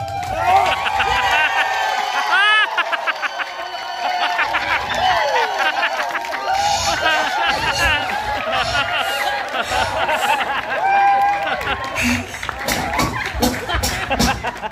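A studio audience at a Filipino variety show voting contest cheers and squeals for a love-team trio, a loud, continuous wash of excited voices with scattered clapping throughout.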